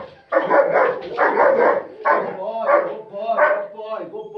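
A German shepherd barks aggressively during training: a series of loud, close bark bursts in rapid clusters, with a voice mixed in.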